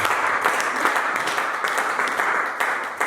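A church congregation breaks into applause, a dense, sustained wash of many hands clapping close and loud, with slight swells, lasting the whole span.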